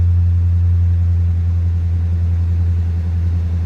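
A used car at a public auction runs at a steady idle just after starting, a loud, close, deep engine drone with a constant low hum and no talking.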